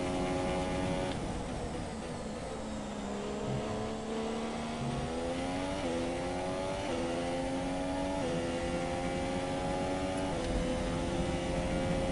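Formula One car engine in a racing video game during a flying lap behind Bottas: a continuous high-pitched engine whine rising through the revs, dropping sharply at gear shifts, and climbing again, loud and steady throughout.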